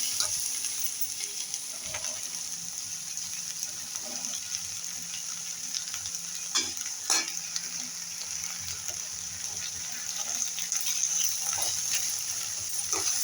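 Sliced okra sautéing and being stirred in a pan, a steady bright sizzle with occasional scraping stir strokes, close and continuous with no talk.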